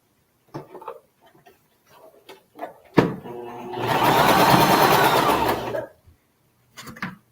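Sewing machine chain piecing quilt blocks: a few light clicks and handling taps, then a sustained, loud mechanical whir of stitching lasting about two seconds before stopping, followed by more soft clicks.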